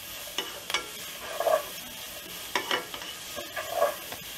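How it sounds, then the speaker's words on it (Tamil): Paneer fried rice frying over a high flame, a low steady sizzle broken by several bursts of spatula stirring and scraping against the pan, close and fairly loud, with no voices. "ஒரு 5 நிமிஷமாக நம்ம ஃப்ரை பண்ணிட்டுருக்கோம் ஹை ஃப்ளேம்லேயே"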